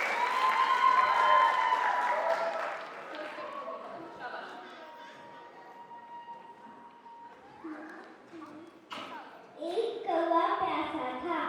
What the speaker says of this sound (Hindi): ओके, जोरदार तालियां प्लीज। क्लैपिंग